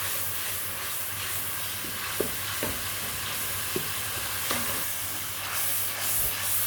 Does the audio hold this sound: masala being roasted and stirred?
yes